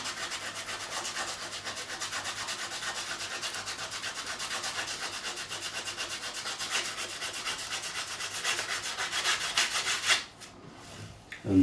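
Frets on a 1986 Hamer Chaparral guitar being sanded smooth with sandpaper, a continuous fast back-and-forth rubbing rasp, close and even, swelling slightly before stopping abruptly.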